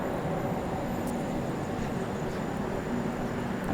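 The Saurashtra Mail train pulling out of Bhatiya railway station, a steady rumbling roar of the rolling train heard from on board, continuous and even throughout without talk.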